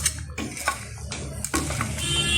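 A spoon scrapes and taps in a cooking pan as chicken is stirred with water, making close, soft clinks and wet sloshing scrapes in quick irregular strokes.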